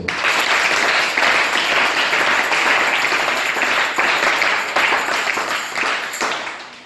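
A church congregation claps and applauds loudly and continuously through a Sunday worship service. The dense clapping holds steady throughout and thins slightly toward the close.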